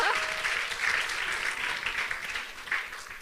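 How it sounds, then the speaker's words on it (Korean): A church audience in Gunsan claps together, loud dense applause that fades slightly over three seconds. "박수 한번 줄까요?"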